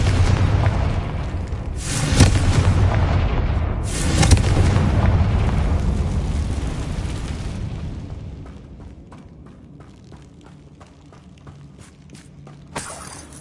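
Two heavy Confringo blasting-curse explosions boom in a Harry Potter video game, a few seconds apart, each trailing into a low rumble that fades as lighter steps and clicks continue quietly.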